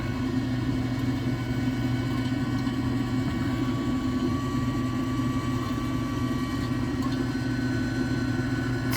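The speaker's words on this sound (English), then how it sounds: "you can hear both the fan and the auger running" The fan and auger of a Pit Boss Platinum Brunswick pellet grill run with a steady, loud low hum and whir that stays constant throughout, close by, with no talking.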